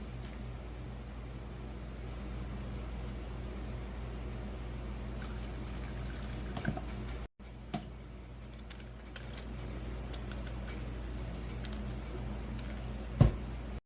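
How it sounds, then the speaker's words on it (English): A 50-50 homemade cleaning solution is poured through a funnel into a plastic bottle, a long, soft, continuous trickle and gurgle that runs for several seconds, briefly stops, then resumes, ending with a small knock. "I'm going to funnel it in and fill up the bottle."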